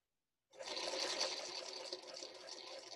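A sewing machine stitches a pinned quilt seam for a Lone Star quilt center, a steady close whirring hum that starts abruptly and runs continuously.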